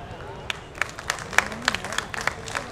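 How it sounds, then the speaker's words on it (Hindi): An audience applauds with scattered, uneven claps at an outdoor Dahi Handi festival stage in Patna, welcoming an honoree. Crowd murmur runs beneath the claps. "आप जोरदार ताली बजा करके"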